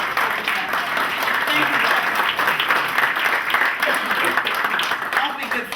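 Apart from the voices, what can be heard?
audience applause for Roy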